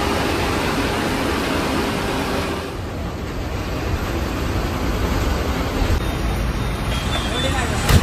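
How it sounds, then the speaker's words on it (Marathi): Heavy road traffic at Ghodbunder forms a constant broad roar of engines and tyres, loud and unbroken, with a brief hiss near the end. "घोडबंदरची ट्रॅफिक म्हणजे अर्धा जीव काढते"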